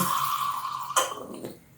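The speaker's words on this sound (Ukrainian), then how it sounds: "Я лию її воду цим добривом" Fertilizer-treated water poured onto an orchid planted in moss, a steady trickling pour that stops about halfway through, followed by a faint splash and drip.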